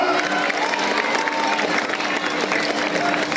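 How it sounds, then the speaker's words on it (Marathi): A crowd at a marathon in Dhule claps continuously, a dense, steady wash of applause with a voice faintly over it. "ते मागचे लोक जोरदार टाळ्या उद्या"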